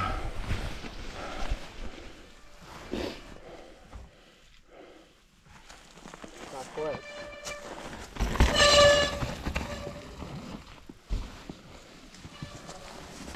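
A train horn blares amid loud rumbling and rattling of a passing train on a snowy trail, the tone strongest and most sustained midway through, with background noise throughout.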